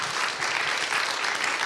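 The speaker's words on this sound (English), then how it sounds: "a round of applause" Audience applause after a reading, a steady wash of clapping from a crowd, moderately loud and continuous throughout.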